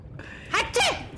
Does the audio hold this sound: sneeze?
yes